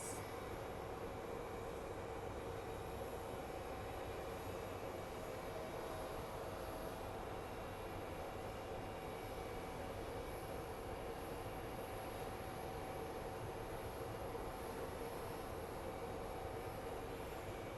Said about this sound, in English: Good landing by that Airbus.